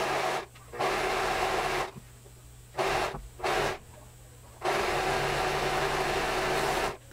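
Sewing machine stitching the crotch seam of envelope-style trousers, steady loud whirring runs broken by pauses, with two short bursts in the middle before a long final run.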